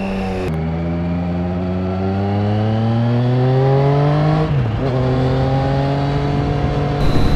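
A loud 2020 Triumph Street Triple RS motorcycle engine revs up steadily, pitch climbing through the gears, with a brief dip as it shifts before pulling again.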